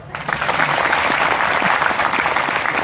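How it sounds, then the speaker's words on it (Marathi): A crowd at a Buddhist Dhamma conference applauding for themselves, a dense and loud burst of clapping that starts abruptly and continues evenly throughout. "एकदा जोरदार टाळ्या स्वतःसाठी वाजवा"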